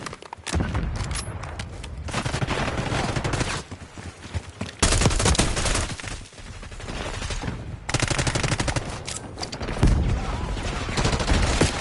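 Sustained bursts of automatic gunfire in a first-person shooter video game ripple close and loud, broken by brief pauses between volleys and ending in another long burst.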